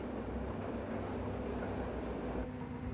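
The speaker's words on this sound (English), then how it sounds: "10 kilometers of tunnels, served by their very own train." An underground train runs through the long tunnels of the Hackenberg fort on the Maginot Line, giving a steady, loud rumble and roar with no pauses and no voices.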